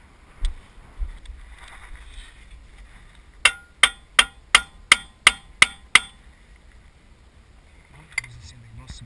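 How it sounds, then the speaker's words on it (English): A hammer bangs on the front CV axle of a 2020-2024 Cadillac XT6, eight sharp, loud metallic blows in a quick, steady rhythm, with quiet handling noises before and after. "Hammer here."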